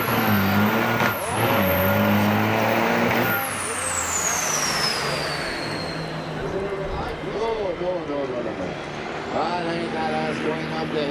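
Loaded big rig trucks racing at Onaway Speedway, loud engines droning and shifting close by, with a long whistling whine that sweeps down, under a race announcer's voice.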